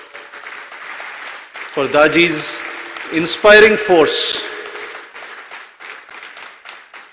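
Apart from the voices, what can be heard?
audience applause for Daji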